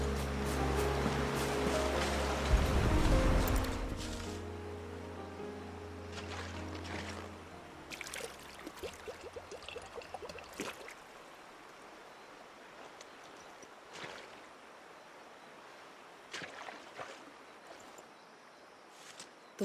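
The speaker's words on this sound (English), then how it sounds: "We can collect the water of the river from here." Faint, steady rush of river water flowing in Final Fantasy XVI, with a brief tonal swell at the start and scattered soft splashes and clicks over the continuous wash.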